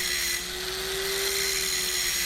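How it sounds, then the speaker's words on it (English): An angle grinder does rough work on a steel razor blade, a loud, continuous high whine with a steady pitched tone and harsh grinding hiss throughout, no talk. "I'm using the angle grinder to do some of the rough work here."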